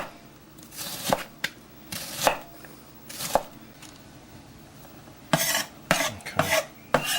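Onion being chopped with a kitchen knife on a cutting board, a series of sharp, close knife strikes in uneven bursts with short pauses, a quick cluster toward the end, no talk.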